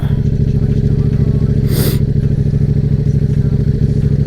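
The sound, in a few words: KTM RC8 R motorcycle engine idling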